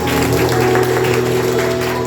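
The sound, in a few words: church congregation applauding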